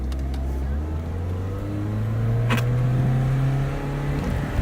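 A BMW E30 with a four-cylinder engine and quiet exhaust revs close by, the engine note climbing steadily and holding high before dropping off, loud and alone over roughly four seconds.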